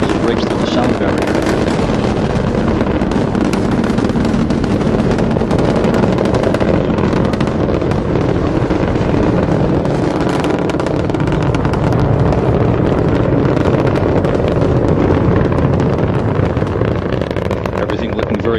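Space Shuttle Atlantis lifting off on its three liquid-fuel main engines, a loud, continuous, crackling roar that fills the whole stretch without letup, with a commentator's voice running beneath it.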